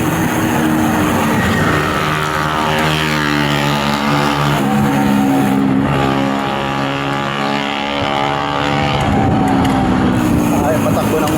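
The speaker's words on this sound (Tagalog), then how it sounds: "Ay, patakbo ng motor yun." A motorcycle runs past on a city street, its engine a steady loud harmonic drone with a rise and fall as it moves, while people talk throughout.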